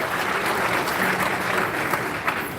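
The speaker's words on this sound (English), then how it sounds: "a round of applause for her, please" An audience at a mentorship summit in Kano gives sustained applause, a dense, steady roar of many hands clapping evenly throughout with no voices standing out.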